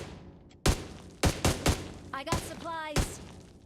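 Gunfire in the mobile battle game BGMI comes as several loud close bursts and single cracks spread across the moment, with players' voices talking in between.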